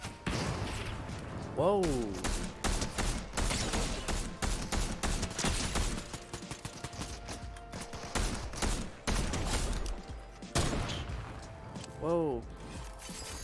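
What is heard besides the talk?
gunfire from a video game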